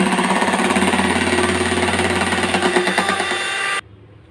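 An electric beater whips butterscotch ice cream mixture with a loud, steady motor buzz and a rattling churn that runs continuously for nearly four seconds before cutting off abruptly into quiet.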